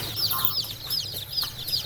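Day-old Lohmann Brown chicks, just out of a warm incubator and chilled, peep constantly in a steady stream of shrill, rapid cheeps from close by, with no voices over them.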